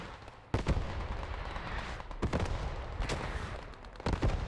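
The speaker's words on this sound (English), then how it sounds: "Oh, that's LBF artillery." Artillery shells land in Hell Let Loose during a bombardment, several heavy booming impacts spaced a second or two apart, each a sharp crack rolling into a rumble over ongoing battle noise.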